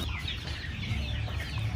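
Young chickens on a small poultry-raising setup cluck and murmur softly in a brief, steady stretch, close by with no talk.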